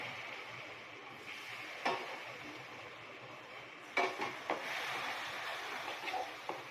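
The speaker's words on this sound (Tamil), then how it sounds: "அதை கொஞ்சம் கொஞ்சமாக ஊற்றி கிண்டணும்" A utensil stirs wheat halva in a pan as sugar syrup is poured in little by little, giving soft continuous scraping with a few sharp knocks against the pan, faint and close with no talking.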